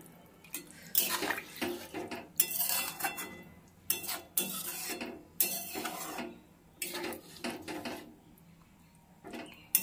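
Vegetable curry of tender drumsticks and potatoes stirred in a pot after water is added, with repeated bursts of sloshing and splashing and some utensil clinks against the pot, close and fairly loud, no talk.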